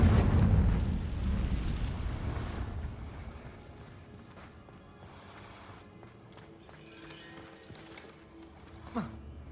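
A Confringo spell blast in Hogwarts Legacy sets off a loud, deep booming explosion that rumbles and slowly fades over a few seconds, followed by quieter game noise and a brief swooping effect near the end.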